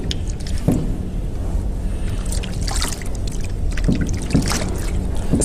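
Water sloshes and splashes in a basin as a client's leg is washed during a pedicure, a constant close wet churning with occasional louder splashes and drips.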